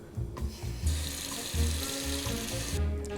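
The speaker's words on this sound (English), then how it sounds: "So get 7 ounces of warm water, and you want it just above room temperature." Warm water running from a kitchen tap for pizza dough, a steady close splashing stream with small bumps and clatter of handling throughout.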